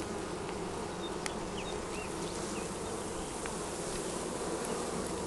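Honey bees buzzing around an open nuc hive during an inspection, a dense, continuous drone close to the recorder, with a few individual bees flying past, and no voices.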